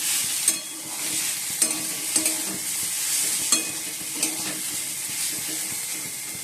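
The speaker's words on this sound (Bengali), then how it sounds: "আমরা আলুটা তো ভেজে দিচ্ছি এবার" Potatoes fry in a pan with a bright, steady sizzle, broken every second or so by sharp scraping clicks of a utensil stirring them. No voices are heard.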